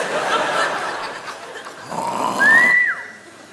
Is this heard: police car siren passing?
no